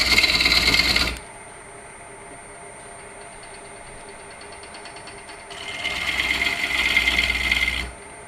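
A bowl gouge cuts wood shavings on a spinning lathe, giving two bursts of bright hissing scrape that bracket a quieter stretch where only the lathe's steady hum continues.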